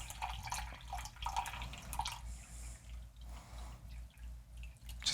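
Water poured into a container on a scale to measure out 500 grams for a homemade Caffenol film developer solution; a steady close splashing pour with small drips and fluctuations, no talking.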